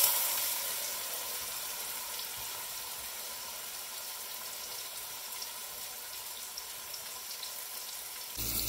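Pulled pork pieces searing in a hot pan give a steady, even sizzling hiss that runs unbroken for about eight seconds, close and moderately loud, with no talking.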